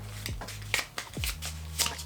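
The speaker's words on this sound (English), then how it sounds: "Let's shuffle the answer cards." Playing cards being shuffled by hand at close range, with several quick riffling bursts and soft slaps between them, over a low steady hum.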